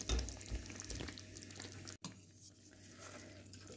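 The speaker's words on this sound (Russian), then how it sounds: "И вот теперь мы тушим. Это первый соус болоньезе." A pot of bolognese sauce for lasagna stews on the stove, heard up close as soft bubbling and clinking, with a brief dropout partway through and no talking.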